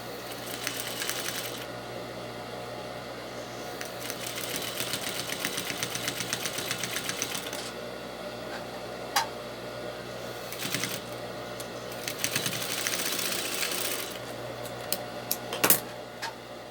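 Sewing machine stitching fabric pieces together with a 1 cm seam allowance, running in bursts of rapid, rhythmic clatter with short pauses, close and fairly loud with no talk.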